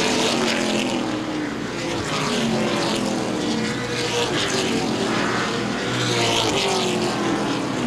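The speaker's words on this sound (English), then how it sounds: "Down the backstretch, Dean Cook moves around Timmerman to 5th place" Late model stock cars race around Baer Field Speedway, a steady loud roar of several engines with droning tones rising and falling as the pack passes, no voices.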